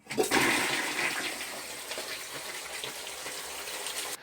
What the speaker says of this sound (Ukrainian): Поставили унітаз, натиснули кнопку змиву, а бризги води розлітаються по всій ванній.